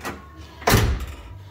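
A door on a 1979 Camaro Z28 under restoration, with a single close, solid thunk of the door, followed by a faint rattle as it settles.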